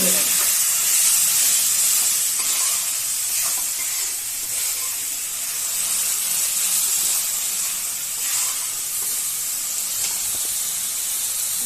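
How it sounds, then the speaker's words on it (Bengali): Tomato puree frying in a pan for a vegetarian potato curry, a steady close hiss and sizzle running unbroken throughout with little change in level. "এবার আমি যে টমেটো পিউরিটা করে রেখেছিলাম সেই টমেটোটা এর মধ্যে দিয়ে দেবো"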